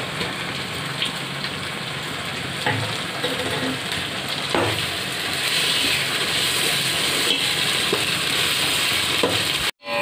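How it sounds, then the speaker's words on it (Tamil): Ginger garlic paste fries with softened onions in a pan, giving a steady, close sizzle with occasional stirring scrapes and a brief clatter at the end. "இப்போ இஞ்சி பூண்டை சேர்த்துடலாம்"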